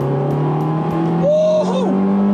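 A Toyota MR2 G Limited engine with a stock exhaust hums steadily, then revs up in a quick rising whine near the end, loud and close.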